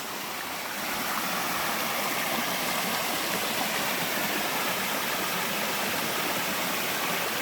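A small waterfall in an Oregon forest, not shown on any map, roars as a steady, dense rush of falling water heard close up, with no voices.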